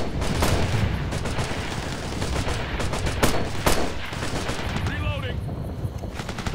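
Squad gunfire in the video game Operation Flashpoint Red River: repeated sharp rifle and machine-gun bursts crack close by over several seconds, with a brief radio-like voice near the end.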